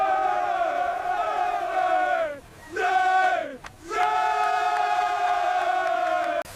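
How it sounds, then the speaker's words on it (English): A large outdoor crowd at the 1869 Golden Spike ceremony, marking completion of America's transcontinental railroad, roars and cheers in a loud sustained wave, dipping briefly twice before surging back to full volume. "The crowd erupts."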